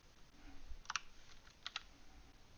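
A few faint, quick computer keyboard clicks, with two small pairs of sharp taps against a quiet background.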